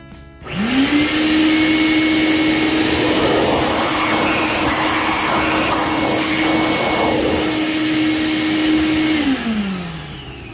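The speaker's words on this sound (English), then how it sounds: "Sorry about the noise of the vacuum." A shop vacuum cleaner cleaning up after machining Dodge 318 cylinder heads whirs up to a loud, steady roar with a sustained tonal whine, runs evenly for several seconds, then winds down.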